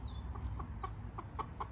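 A free-range hen, out with her baby chick, gives a run of about six short, soft clucks in quick succession, fairly close and alone with no talking.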